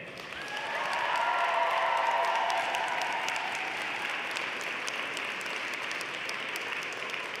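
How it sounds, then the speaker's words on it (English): Graduates at a university convocation ceremony applaud their families, friends and faculty, a broad wash of clapping from a large crowd that swells after the first second and holds steady, heard from a distance in a large hall. "I'd like to invite the members of the graduating class to reciprocate by applauding your family, friends, faculty, and staff"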